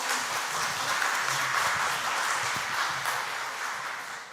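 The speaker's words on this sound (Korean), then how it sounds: "박수!" An audience in a lecture hall claps for volunteers, a steady dense applause that holds for a few seconds and then tapers off slightly, with no voices above it.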